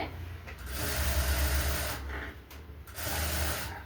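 A sewing machine running steadily as another line of stitching goes down a blouse seam, a low mechanical hum with a faint rhythmic chatter, swelling in two longer runs separated by a brief easing.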